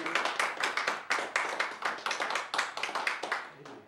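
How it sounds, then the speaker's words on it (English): A church congregation claps its hands together in a lively, fairly close burst of rhythmic clapping that carries on steadily for several seconds before tapering off. "Let's give the Lord a hand clap."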